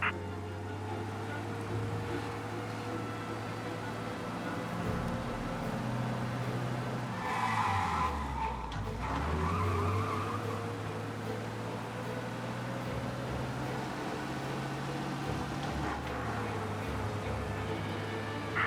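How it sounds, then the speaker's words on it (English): A 1930s car engine in the video game Mafia: Definitive Edition drones steadily at speed, its pitch dipping and swelling midway before settling again; continuous, fairly loud rumble with no talking. "We lose them by driving real fast and getting clear of them."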